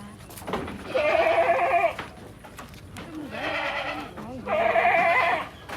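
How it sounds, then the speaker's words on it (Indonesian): A Javanese goat gives three drawn-out, wavering bleats, each about a second long, close and fairly loud, with a softer bleat between them and faint background noise. "Kambingnya cenderung kambing Jawa"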